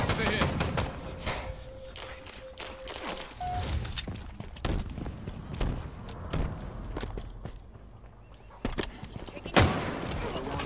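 Rapid bursts of automatic gunfire and sharp single shots fill a Halo Infinite multiplayer match, mixed with footstep thuds and game announcer cues, with a player talking over the action.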